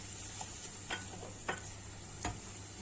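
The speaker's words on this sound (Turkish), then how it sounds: "Bunları da iyice karıştırıyorum." Spoon scraping and tapping through a mix of pepper paste and tomato paste, a few sparse soft clicks over a faint steady hum, close and quiet.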